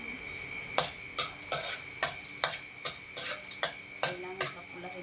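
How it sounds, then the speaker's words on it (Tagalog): Garlic fries in a pan with a soft sizzle beneath a run of regular clinks and scrapes as a utensil stirs against the metal, close and moderately loud. "Kailangan papulahin natin yung aking bawang."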